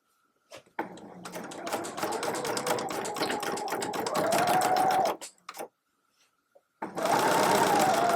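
Sewing machine back-stitching and hemming the casing of a drawstring bag: a loud, steady run of rapid needle strokes for several seconds, a brief stop with a couple of short bursts, then stitching resumes.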